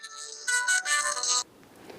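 An electronic phone ringtone plays a bright, melodic pattern for about a second and a half, then cuts off, leaving quiet room noise.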